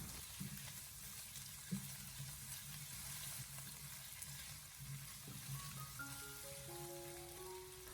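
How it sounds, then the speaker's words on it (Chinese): Pork belly and ginger chunks stir-frying over low heat in a pan, a steady soft sizzle with a few scrapes of the spatula, no talking. "将五花肉稍微的煎出油脂以后，接着再把切好的姜块放进来，再继续的开小火把它翻炒一下，把姜块给它爆出香味"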